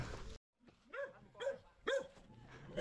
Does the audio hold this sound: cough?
no